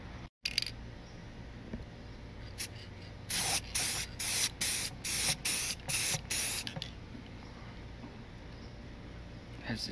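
Clear coat sprayed onto a sanded headlight housing outdoors in the sun, heard as a run of about eight short, loud hissing spray bursts in quick succession over a quiet background.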